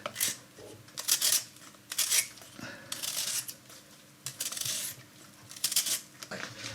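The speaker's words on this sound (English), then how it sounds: "now for the potatoes, which I'm going to obviously peel and cube" Potatoes being peeled by hand for a pork stew, a close, fairly quiet series of repeated scraping strokes in an irregular rhythm, with no talking.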